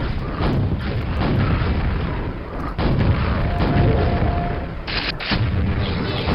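In the game Quake, a rocket launcher fires in heavy booming blasts, several loud thumps spaced over a few seconds amid dense rumbling action noise.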